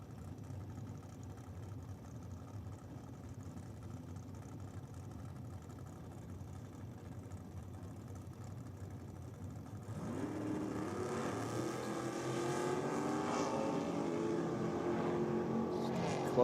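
A T-bucket drag racing car with a 580 at a No Prep Racers Australia drag strip: a steady engine rumble that swells louder and richer about two-thirds of the way through, with no clear voices.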